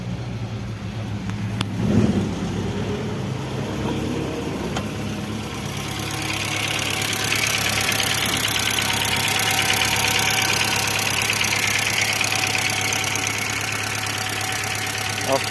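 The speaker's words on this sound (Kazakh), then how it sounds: "Буюрса машина оталды." VW Golf 3 that had trouble starting now running after a wiring repair, its engine settling into a steady, close idle that rises slightly in level partway through, with a brief clunk near the start.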